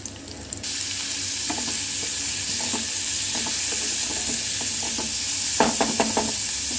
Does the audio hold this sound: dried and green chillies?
yes